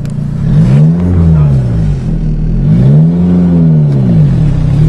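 A 5-speed manual car's engine revs up and falls back in steady swells as a learner driver eases out the clutch, loud and close inside the cabin, with brief talk mixed in.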